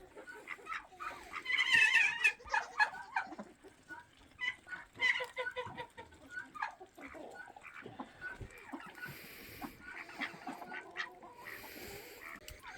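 Backyard chickens cluck and squawk among a mixed flock with turkeys and guinea fowl, busy overlapping calls at moderate distance, louder early on then a steady chattering murmur.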